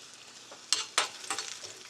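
Onions hit hot oil in a pan for a radish chutney, giving a soft sizzle with two sharp bursts of crackle as they land and are stirred.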